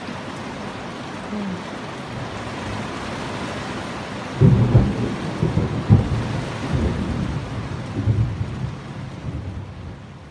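Heavy rain pours steadily on open water around a boat while deep thunder rumbles and cracks loudly several times, a close, intense squall with lightning and no voices.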